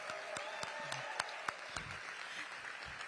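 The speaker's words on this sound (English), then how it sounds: "Can we give them a huge round of applause?" An audience at a city arts awards ceremony claps for a hardworking team, a moderate round of applause with distinct sharp individual claps standing out over the steady patter.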